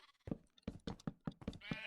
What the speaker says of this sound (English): We've got a sheep farm.